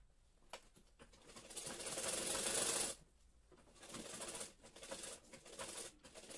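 Domestic sewing machine running in bursts while stitching a 38-inch katori blouse, its motor whirring up for a few seconds, pausing, then starting again, close and steady with no voices.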